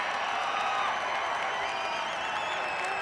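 Golf gallery at the US Open at Pebble Beach cheering and applauding after a long made putt for a two, a steady, dense wash of crowd noise throughout.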